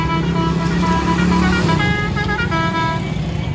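Car horns honking repeatedly in a traffic jam at a busy intersection in Pakistan, several overlapping loud toots and long blasts over steady engine rumble, close and continuous.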